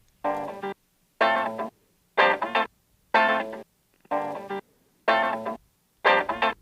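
Chopped-up Brazilian record sample played as seven short, evenly spaced stabs separated by silence, each a bright musical fragment of about half a second, alone and moderately quiet.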